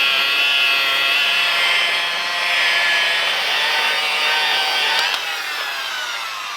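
A machine polisher works cutting compound into the paint of a Volkswagen Golf R during detailing, giving a loud, continuous high whir with shifting pitch that swells and dips slightly as the pad moves across the panel.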